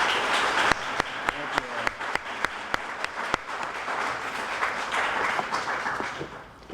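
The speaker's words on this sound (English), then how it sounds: "give him another round of applause." An audience applauds at an honoring ceremony held by a film archive, a dense wash of clapping with a few sharper individual claps standing out, steady and moderately loud throughout before thinning slightly at the end.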